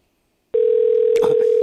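A telephone ringing tone starts abruptly and holds loud and steady, with a brief soft rustle partway through.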